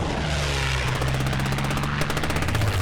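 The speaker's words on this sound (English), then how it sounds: "And then the column is attacked by British warplanes." British warplanes attacking a retreating German convoy near El Alamein, heard as a steady, loud aircraft engine drone with a rhythmic propeller pulse and a possible faint rattle of guns.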